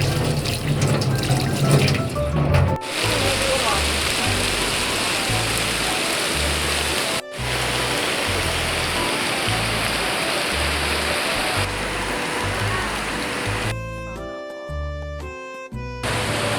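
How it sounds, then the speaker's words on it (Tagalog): Heavy rain pours down steadily at a school, a dense, loud hiss that continues without letup and is briefly cut off, with a low, rhythmic thumping underneath. "umuulan na po dito sa school"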